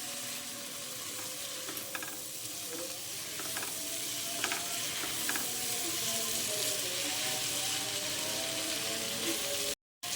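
Chopped onion frying in a hot pan for fried rice: a loud, continuous sizzle with crackling and occasional scraping as it is mixed, close up and without talk.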